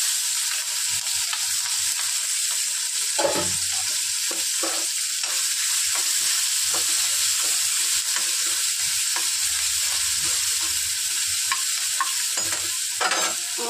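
Onions and dried red chillies frying in oil in a pan, a loud, unbroken sizzling hiss throughout with occasional faint clinks of a stirring spoon, heard close and alone.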